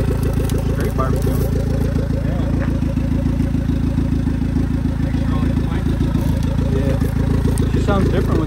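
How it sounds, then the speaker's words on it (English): A 1995 Honda del Sol Si engine, turbocharged with a wastegate, idles with a steady, throaty rumble and faint fluttering, close by, while people talk over it. "Sounds different with that wastegate on."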